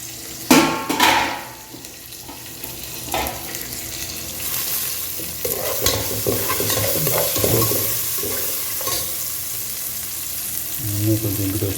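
Mustard seeds, cumin and black pepper fry in a pan in a village kitchen, a steady close sizzle broken by stirring scrapes and a few sharp pops, with occasional clatter of utensils.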